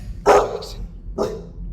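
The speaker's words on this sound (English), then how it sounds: "Get your dog, man." A dog gives two sharp, loud barks about a second apart, close to the microphone, with a faint yip after the first, over quiet room noise.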